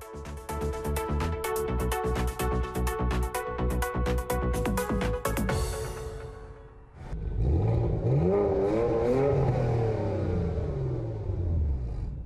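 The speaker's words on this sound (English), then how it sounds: "To Reinhold, the Porsche Macan GTS sounds like a genuine 8-cylinder, but picks up like a sports car" A Porsche Macan GTS engine revs hard with rising and falling whine, then settles into a deep, rumbling acceleration with climbing gear-like pitch sweeps.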